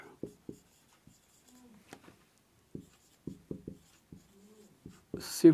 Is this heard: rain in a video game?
no